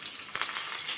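Onions, green chilies and curry leaves frying in a pan give a steady, close hiss of sizzling oil throughout, with one brief brighter crackle burst near the start.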